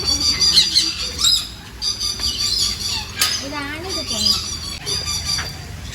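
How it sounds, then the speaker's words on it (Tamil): A Chinese chicken at an exotic bird park in Mettupalayam gives several loud, sharp squawks and calls up close, over a busy mix of children's voices and other bird noise. "இதுதான் வந்து சைனா கோழியாம்மா"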